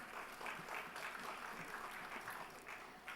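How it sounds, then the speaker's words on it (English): Audience applause rings out steadily after a Drishti theatre performance at the Blossoms 2021 event, a dense, sustained patter of many hands clapping at even loudness for the whole stretch, with no voices over it. "a round of applause for this theatre performance by Drishti"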